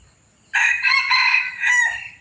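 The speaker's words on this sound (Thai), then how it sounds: "เสียงขันเสียงป่าหมดครับเพราะว่าเป็นไก่ป่ารุ่นผสม" A young hybrid jungle fowl rooster crows once, loud and close, a long strained cock-a-doodle-doo rising and wavering before it breaks off, with no other sounds around it.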